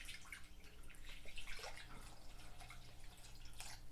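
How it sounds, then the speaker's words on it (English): Water poured by hand into hydroponic seed pods, a steady close trickle and drip with faint splashing throughout, no voices. "So you just pour a little bit of water."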